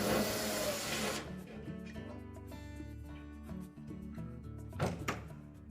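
A mounting screw is backed out of the heater box of a Whirlpool dryer, a brief burst of drilling whir followed by faint mechanical ticks and small metallic clicks, close and fairly quiet.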